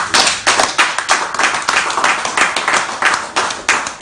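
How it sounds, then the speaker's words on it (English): An audience at a #Sowore2019 Our Time campaign gathering gives a short, close round of applause. Loud, rhythmic clapping dominates with distinct individual hand claps pulsing throughout and no talking. "Please give them a round of applause"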